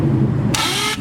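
On a Lexus SC400 swapped to a 1UZ-FE V8, the starter fails to engage: a brief, loud whirring hiss cuts in for about half a second, then stops, with no voices.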